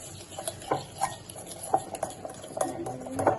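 Fish being stirred and mixed by hand with a little coconut oil, giving soft wet squelches and scattered clinks against a bowl in an irregular rhythm, close and moderately quiet with no talking.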